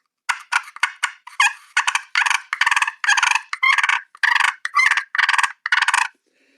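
A voice imitates turkey fight calls: a rapid series of raspy, purring clucks in rhythmic bursts, growing longer and louder, close up with no background noise.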